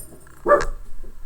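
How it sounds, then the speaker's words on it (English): A dog lets out a single short, sharp bark close by, standing out against an otherwise quiet room in a home. "Sorry about the dogs barking."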